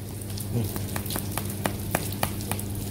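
Pizza dough frying in hot oil, a steady close crackling sizzle with sharp pops scattered through it, loud and continuous.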